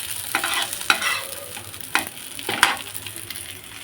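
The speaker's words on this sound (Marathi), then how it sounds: "कढईमध्ये थोडं तेल घातले. तेलात थोडेसे धणे जिरे घातले." Coriander and cumin seeds frying in hot oil in a wok give a steady crackling sizzle, broken by several sharp scraping stirs of a spatula against the metal, close and fairly loud.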